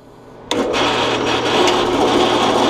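Drill press converted for milling, switching on with a sharp onset and then a loud steady whine and grinding hum as the cutter plunges into wood, continuous and near.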